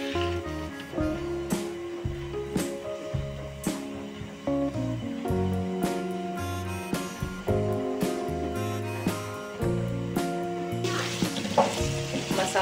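Spice masala frying in a pan with steady, close sizzling and bubbling, punctuated by stirring scrapes, growing busier toward the end.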